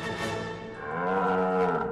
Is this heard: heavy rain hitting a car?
no